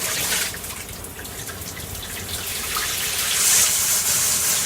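Caravan shower running with its air intake covered, a steady hiss of water flow that grows a little louder and brighter toward the end, heard alone without talk.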